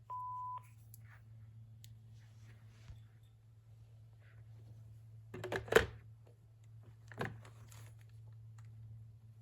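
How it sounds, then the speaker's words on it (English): A short electronic beep from a Panasonic KX-TG5438F cordless phone answering machine sounds at the start, followed by near silence with a low hum and a few faint clicks and knocks. "Please leave your name and phone number after the beep."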